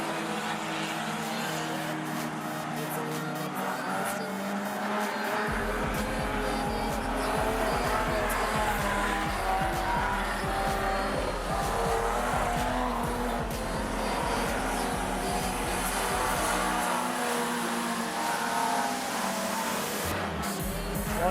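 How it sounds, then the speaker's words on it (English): Race cars roar around the dirt oval at Rockhampton Speedway during a fender bender event, engines droning continuously with a deep rumble surging in and fading as cars pass, under faint crowd and commentary noise. "Bo Saunders trying hard to pick up the race leader."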